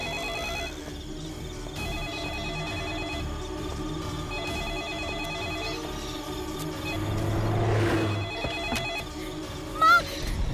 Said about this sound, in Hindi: वो फोन तुम्हारे लिए ही है, जाओ जाकर उठा लो